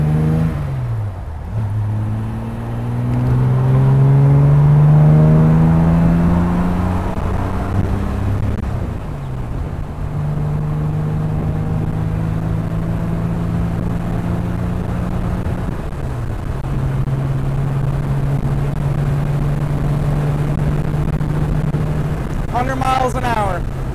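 A 1964 Jaguar XKE Series 1 Roadster accelerating hard, engine revs climbing through several gears with clear drops at each shift, the tone rising again after each change over a long, close run.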